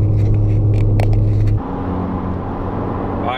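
A 10th-generation Honda Civic pulls uphill through a gear in traffic, a loud droning engine note inside the cabin that drops in pitch partway through as the revs change.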